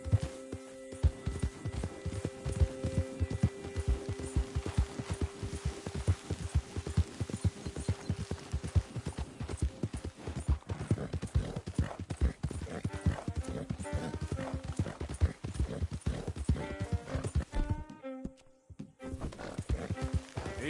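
Horse hooves clip-clop in steady rhythm in Red Dead Redemption 2, close and continuous with faint tack rattle and a brief snort, a short lull near the end, and a voice speaking softly to the horse.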